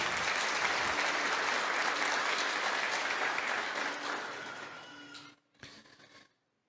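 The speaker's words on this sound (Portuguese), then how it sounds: "Vamos aplaudir a santa palavra de Deus." A church congregation applauds after a Bible reading: steady, fairly distant clapping that thins out, gives one brief final burst, and then falls silent.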